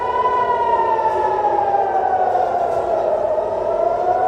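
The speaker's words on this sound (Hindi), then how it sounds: "रॉकेट हमलों के चलते इजराइल के कई हिस्सों में सायरन बजे" Air raid siren wailing during rocket attacks in Israel, a single long tone slowly falling in pitch, loud and steady with no other sounds.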